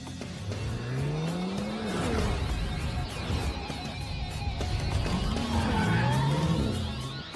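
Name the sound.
race car engine in anime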